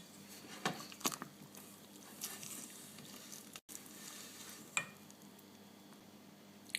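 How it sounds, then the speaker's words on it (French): A spoon stirs apple cake batter mixed with melted butter in a bowl, giving soft intermittent scraping and wet patter sounds with a few sharper clicks, quiet and close with no talking. "Et je mélange bien le tout."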